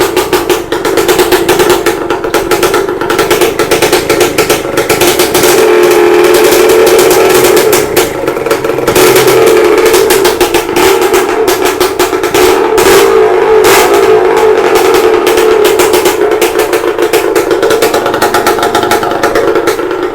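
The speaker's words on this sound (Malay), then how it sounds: "Dah lama tak dengar bunyi motor ni guys." An RXZ motorcycle engine is started and revved, a loud, close, continuous buzzing drone that swells and eases in intensity over about twenty seconds, with no voices over it.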